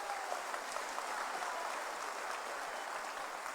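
A political rally crowd in Nawda, Berhampur claps to welcome opposition leader Suvendu Adhikari, a faint, distant and steady wash of applause.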